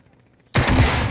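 A rocket launcher fires in a video game: a sudden loud broadband blast kicks in after a quiet moment and roars on steadily, close and dense, with no talk.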